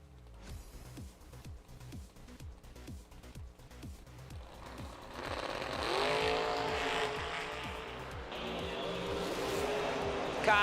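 Drag racing cars at a $250K event run down the strip, a loud engine roar building and sustained with rising harmonic sweeps, then a harsher broadband blast as another car launches, all near and heavy with crowd ambience.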